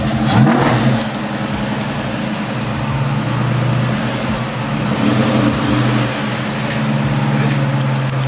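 A Terminator Cobra car engine running without catalytic converters rumbles steadily nearby and revs up in repeated surges, loud and continuous with no speech.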